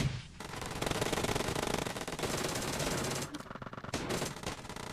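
Rapid, continuous automatic gunfire in a video game, loud and close, sustained with dense overlapping shots and a brief break before more bursts.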